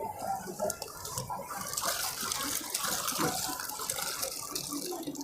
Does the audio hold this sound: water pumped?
yes